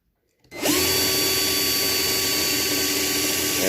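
After a brief silence, a power drill whirs to life and keeps running at a steady high-pitched spin, loud and close, drilling a die-cast toy car post for tapping.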